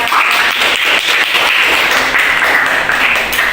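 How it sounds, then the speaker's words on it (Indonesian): Students in a classroom clap together in a steady, dense round of applause, loud and close, with no voices standing out. "Tepuk tangan buat kita semua."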